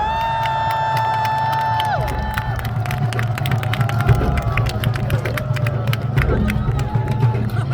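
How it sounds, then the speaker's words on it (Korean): A large outdoor crowd at a presidential campaign rally in Seoul Plaza cheers and claps in a steady, roaring wash, with a few tonal squeals near the start fading out. "여러분 큰 박수 부탁드리겠습니다."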